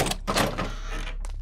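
A door struck hard in a few heavy, uneven bangs close by, with no voices over it.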